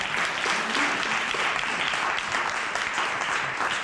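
Loud, continuous audience applause at a 50th birthday celebration, a thick even wash of many hands clapping with no talk over it.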